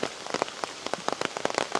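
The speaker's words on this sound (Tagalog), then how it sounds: "wala pa ding hinto ang pag-ulan" Rain falling steadily in Kyoto near a temple, dense close patter with many crisp drops striking a hard surface, irregular and continuous, no voices.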